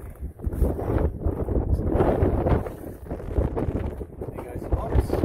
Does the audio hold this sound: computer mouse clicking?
no